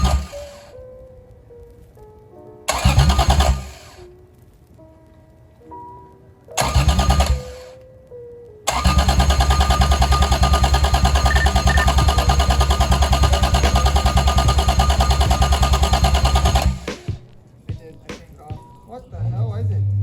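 A Toyota 1JZ-VVTi engine fitted with a Tomei BX8280 turbo turns over in two short cranking bursts, then fires and runs loud and steady for about eight seconds before shutting off, heard close up.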